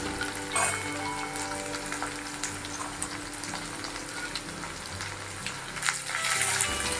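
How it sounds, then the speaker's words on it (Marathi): Onion, capsicum, carrot and green beans sauté in a pan for vegetable pulao, a soft steady sizzle with occasional stirring clatters and scrapes, fairly quiet and close, with no talk. "मग सिमला मिरची, गाजर व फरसबीचे तुकडे घालून तेही छान परतून घेतलं."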